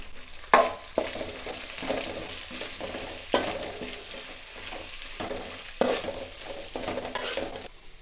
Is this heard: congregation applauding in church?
no